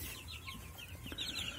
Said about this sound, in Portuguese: Olha onde a galinha tá botando ali.